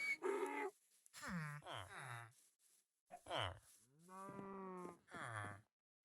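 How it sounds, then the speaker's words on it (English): A baby donkey in a PC farming and city-building video game, near a village, gives several short, tonal, moo-like calls in separate bursts, fairly close and clear, with quiet gaps between them. "Oh, there's a baby donkey there."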